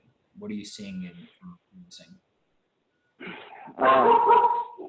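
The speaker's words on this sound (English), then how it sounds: "sorry for the dog there. That's a standard around here." A dog barks and yips in the background of a home setting, with a burst of louder barking near the end, while a person talks over the first part.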